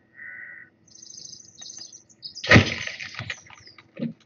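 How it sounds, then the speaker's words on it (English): Birds chirp and tweet around a shelter in the survival game The Forest, a sustained high trill followed by scattered chirps, then a louder rustling flutter as they land, with no talk. "And I have a lot of birds landing on my shelter right now."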